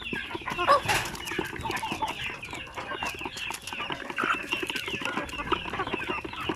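Hens cluck steadily in a backyard flock, with several overlapping soft clucks and calls close by and a flurry of wing flaps near the start.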